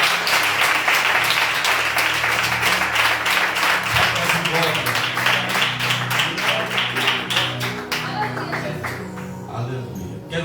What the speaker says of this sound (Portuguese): Aplauda o Senhor para mim, em nome de Deus